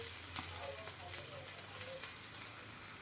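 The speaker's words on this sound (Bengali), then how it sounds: "এবার কড়াইয়ে প্রথমে আমি রসুন কুচিটা দিয়ে দেবো।" Chopped garlic hits a hot kadai and sizzles in a steady, faint hiss that fills the whole moment, with light crackling throughout.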